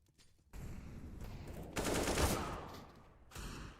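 Automatic rifle sprays fire in bursts during a competitive Counter-Strike match, loud rattling volleys separated by short pauses, with faint caster speech in the background.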